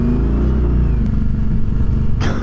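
An Indian FTR 1200 motorcycle engine rumbles and revs up loudly up close, a deep pulsing throb that rises in pitch, with a short clatter near the end.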